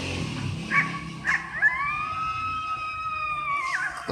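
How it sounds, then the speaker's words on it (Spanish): A wolf howls in a collection of animal sounds for children. A few short yelps lead into one long, sustained howl that holds steady before breaking off, fairly faint. "¿Cómo hace el lobo?"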